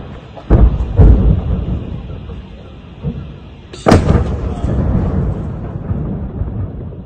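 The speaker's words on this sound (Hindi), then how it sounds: "रशिया ने यूक्रेन के हथियार के गोदाम को ट्रैक किया और उस पूरे गोदाम को ही उड़ा दिया" Explosions at a Ukrainian weapons depot, heard as heavy booming blasts: two close thumps near the start, a smaller one, then a large burst followed by rumbling and crackling, with faint voices underneath.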